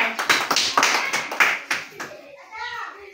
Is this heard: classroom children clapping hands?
yes